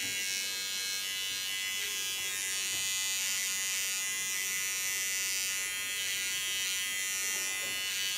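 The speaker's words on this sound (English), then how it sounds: "just by holding my clipper upside down" An electric hair clipper, held upside down, buzzes in a steady high-pitched hum while trimming hair close to the skin, continuous and unbroken throughout, with no talking.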